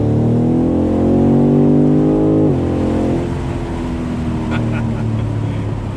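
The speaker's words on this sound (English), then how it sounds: "You've got that lovely V8 grunt that's coming out of the exhaust out the back" A BMW M850i's V8 exhaust note rumbles loudly from the rear, rising in pitch before a sharp shift around the middle, then settling into a lower, rougher drone.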